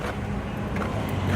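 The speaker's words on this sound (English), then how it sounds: "We're now going to have a look at the engine running." Toyota Camry engine idling steadily, a low continuous hum close by with no voices over it.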